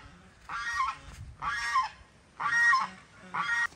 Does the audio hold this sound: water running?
no